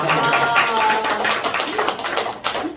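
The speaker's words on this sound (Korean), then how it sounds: "하나님의 영광에 박수다" A church congregation claps in praise during a Sunday morning sermon, a brief burst of crowd applause mixed with voices and room echo.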